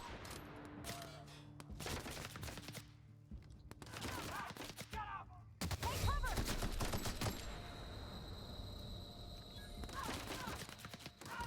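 Bursts of gunfire from The Outer Worlds ring out in uneven clusters over about eleven seconds, separated by short lulls and a sudden heavy blast midway, with a voice speaking faintly underneath.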